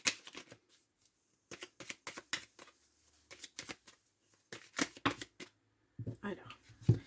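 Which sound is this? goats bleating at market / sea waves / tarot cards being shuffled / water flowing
tarot cards being shuffled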